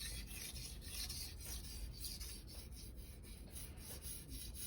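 A knife blade scrapes across a Naniwa 1000/3000 grit combination whetstone in steady, even back-and-forth rasping strokes, close and fairly quiet, with no voices.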